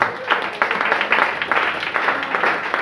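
A church congregation claps and applauds together, a close, dense patter of many hands with rhythmic swells, and a voice speaks beneath it.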